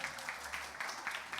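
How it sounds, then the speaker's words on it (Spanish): An audience applauds at the start of a church sermon, with a short, dense patch of clapping that is fairly faint and steady. "Me gusta cuando comienzo y aplauden"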